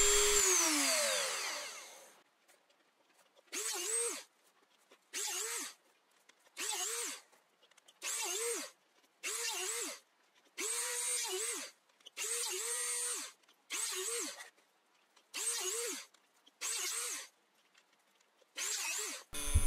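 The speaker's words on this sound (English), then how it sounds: "right before I actually turn on the drill and then and drill the hole." A power drill bores holes in a tricopter body in a series of about eleven short, even bursts with brief pauses between them, loud and close, with no talking.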